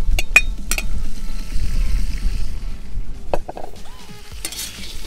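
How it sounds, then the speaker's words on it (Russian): Fried pasta with sautéed vegetables being stirred in a cauldron over a campfire: scraping utensil strokes and metallic clinks over a steady sizzle, close and fairly loud, with no talking. "Все это перемешаем."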